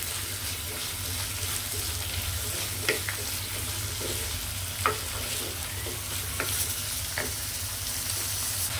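Large and small onions fry in a pan for goat leg paya, a steady loud sizzle with scraping stir strokes and clinks every second or so.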